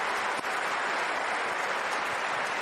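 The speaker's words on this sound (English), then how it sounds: "You guys should give yourselves a round of applause" A dense, steady wash of audience applause for chefs at an awards ceremony, loud and continuous throughout with no gaps.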